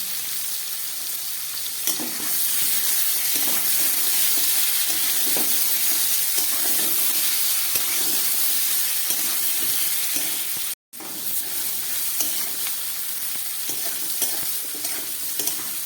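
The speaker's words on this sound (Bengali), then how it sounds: "ফুলকপিটাকে আমি একটু ভেজে নিচ্ছি।" Steady, loud sizzling of cauliflower frying in hot oil, continuous with occasional stirring clatter and a brief cut near the end.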